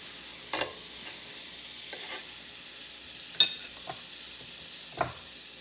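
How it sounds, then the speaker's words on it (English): Cuban sandwich with cheese frying in butter in a pan, a steady soft sizzle with a few scraping and stirring clinks scattered through. "Drop your sandwich in. Let that cook. Let the cheese get melty. Put some more butter in the pan."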